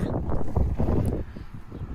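Strong wind buffets a microphone outdoors in a Japanese garden, a loud, continuous low rumbling roar that swells and dips without pause.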